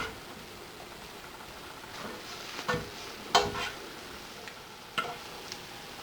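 Onions softening and taking on a little color in a pan, with a low steady sizzle and a few sharp scraping stirs and clicks of the spoon against the pan, no talking.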